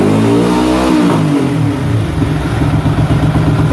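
A racing motorcycle engine held against its pit lane limiter, revving up hard and then stuttering in a rapid, choppy rhythm as the limiter cuts in, loud and close.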